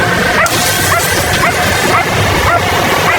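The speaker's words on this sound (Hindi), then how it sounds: "इस कार पर भौंक रही है" A dog barks repeatedly and loudly at a parked car during a hide-and-seek search, with sharp barks arriving at a steady, insistent rhythm over a noisy background.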